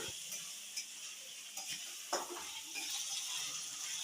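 Vegetable basmati rice stirred in a pot, a soft steady sizzle with a few light scraping and clinking strokes of the spoon against the pot, fairly quiet and without speech.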